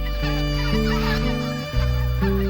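A large flock of migratory white-fronted geese calls over the Cheorwon plain and Togyo reservoir in autumn. Overlapping honking cries stack into a dense, continuous chorus with a low rumbling background.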